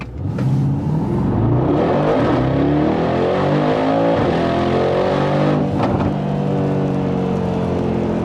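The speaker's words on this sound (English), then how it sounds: "let's see how quick the G-Wagon is from 0 to 100" Mercedes G63 AMG G-Wagon with a 740 hp engine accelerating hard from 0 to 100 km/h with some traction loss, a loud close engine roar rising through the gears with brief shift dips, filling the whole stretch.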